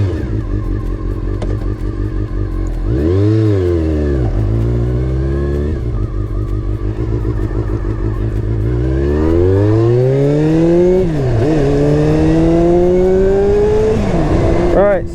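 A 1990s Honda CBR400RR sport motorcycle revs hard through its gears on a ride, the close, loud inline-four engine sweeping up in rising pitch between shifts with brief drops as throttle closes.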